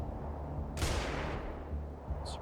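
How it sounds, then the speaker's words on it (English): A flashbang grenade going off in the tactical video game Xenonauts 2: a single sharp, bright burst that trails off into a hissing wash, with a short metallic ping near the end, heard alone. "I wanted to toss a flashbang at this guy"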